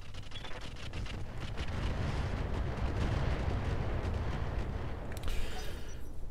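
Mech weapons firing in the video game Roguetech, a dense, continuous rumbling barrage of booms that swells slightly and holds steady throughout, with no clear speech over it.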